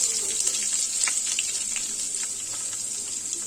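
Two large chopped onions hit hot oil in which curry leaves have fried, for an Andhra-style brinjal and green chilli dish, giving a dense, steady, hissing sizzle with no one talking.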